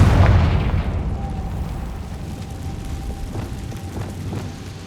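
Confringo blasting spell from Hogwarts Legacy going off as a loud, close explosive boom that rumbles and fades over several seconds.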